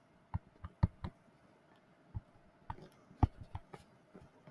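A pen taps and clicks on a tablet screen while writing math: sparse, quiet, irregular clicks spaced across a few seconds in a hushed room, with no talking.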